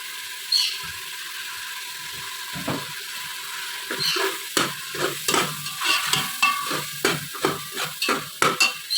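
A utensil stirs tikka masala in a frying pan, repeated scraping strokes that grow faster and more regular over a soft background sizzle, close and clear with no talking.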